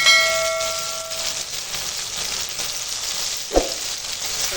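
Ground spices with tomato, ginger-garlic paste, turmeric, chilli powder and salt fry in a pan over a clay wood-fired stove, a steady broadband sizzle with one sharp utensil scrape near the end.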